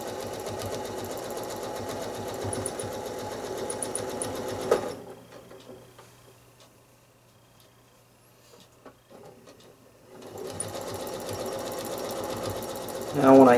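Sewing machine stitching quilt lines on a house block, a fast steady whirring hum that stops for several seconds and then resumes, with a voice talking over it.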